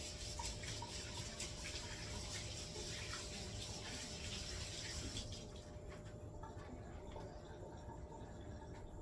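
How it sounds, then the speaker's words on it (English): Warm tap water runs steadily over sticky hands being rinsed after rolling rum ball cookie mixture, a continuous close splashing rush that softens and thins toward the end. "I'll have to wash them off in warm water."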